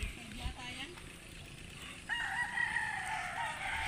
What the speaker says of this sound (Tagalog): Mga panlaban na manok, oh.